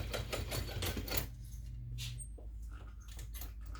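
A sewing machine stitches a messenger bag in a rapid burst of mechanical clatter up close, then slows into a few scattered ticks and clicks as the stitching stops, with no talking.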